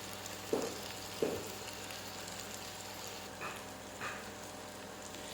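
Meat and potatoes fry in a pan with dried chilli powder, making a faint, steady low sizzle with a few soft knocks from stirring.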